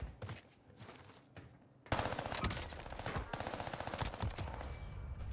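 Rapid SMG bursts in Call of Duty: Warzone Rebirth, starting after a quiet stretch, then a dense run of close, loud automatic shots.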